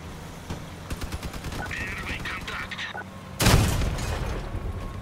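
Gunfire in the vehicle-combat game Crossout: rapid bursts of automatic shots rattle through the first seconds, then a heavy booming blast hits loud and close, followed by lingering rumble.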